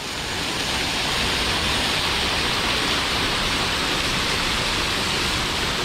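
A waterfall pours down a mountain nearby near Joshimath, a loud, even roar of rushing water with no voices over it.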